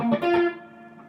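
A few quick distorted electric guitar notes strum unevenly, then ring briefly and decay.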